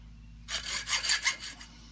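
A hand saw cuts through a plastic phone stand clamped in a vise, a burst of quick rasping strokes starting abruptly and running for about a second before tapering off, close and fairly loud.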